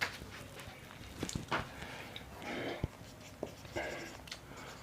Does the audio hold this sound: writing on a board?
yes